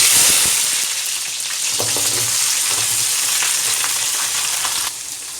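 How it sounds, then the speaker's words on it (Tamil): Onions and garlic sautéing in oil after mustard seeds have popped, for a Tamil fenugreek curry. A steady, fairly loud hiss of frying with scattered crackles and soft stirring scrapes, and no talk. "அதனால் நல்லா வெங்காயத்தை வந்து எண்ணெயிலே வந்து நல்லா வணக்கி எடுத்துக்கலாம்"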